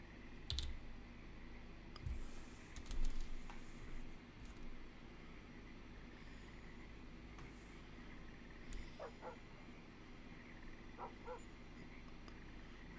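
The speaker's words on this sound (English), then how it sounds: "And the dog, it sounds like it's really near" A dog barks near the player in the fishing game Russian Fishing 4, giving a few short barks early on with scattered clicks over a steady outdoor ambience.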